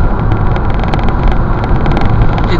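A 2010 Renault Scenic driving on the road, a loud, steady broadband rumble of engine and tyre noise that holds an even level throughout with no voices.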